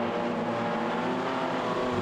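Midget race cars at a night championship meeting at Lismore Speedway roar around the track, a continuous loud engine drone with passing cars blending together throughout.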